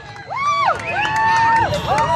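A crowd at a live jousting match cheers loudly and close by, with rising whoops and shouts over a broad roar of voices that swells and holds throughout.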